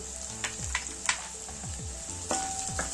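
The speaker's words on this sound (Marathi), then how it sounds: "आता हे सगळं छान खमंग परतून घ्यायचं।" Onion, green chilies, curry leaves and peanuts sauté in a pan with a continuous bright sizzle, punctuated by several quick stirring scrapes and clinks close by, with no talk.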